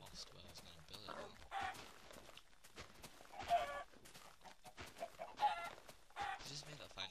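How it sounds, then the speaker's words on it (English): Minecraft chickens cluck in brief, faint bursts at scattered moments among game sounds, mostly under a player talking. "It's just me that finds it difficult to hit the chickens."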